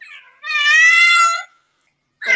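A female cat in heat lets out a long, drawn-out yowling wail, loud and close, followed by silence and the start of another cry.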